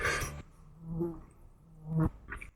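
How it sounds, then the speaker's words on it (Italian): A fly buzzes right at a camera lens outdoors at Maratea, a close, wavering drone that swells and fades in short passes with a sharp flutter near the end. "Facciamo il video con la mosca"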